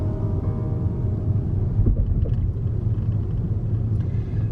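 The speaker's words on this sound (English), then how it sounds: "Driving over the Hoover Dam." Car driving across the Hoover Dam, a steady low engine and road rumble with wind noise, continuous and close throughout without speech.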